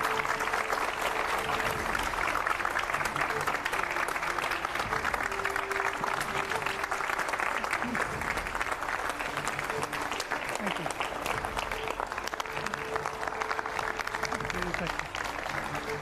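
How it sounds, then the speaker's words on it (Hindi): Studio audience at an Indian television news event gives sustained, loud applause for a guest minister, continuous clapping with a host's voice speaking over it. "जोरदार तालियां तेमजेन इमना ओलोंग के लिए"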